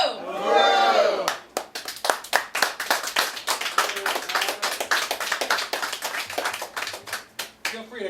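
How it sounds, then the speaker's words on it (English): An audience claps, a dense burst at first that breaks into scattered, uneven claps which keep going to the end. "Feel free to clap longer and louder for Matt."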